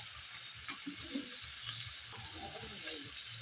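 Cumin powder frying in hot oil in a pan for a fish curry, giving a constant close hiss and sizzle with occasional stirring scrapes, no talk.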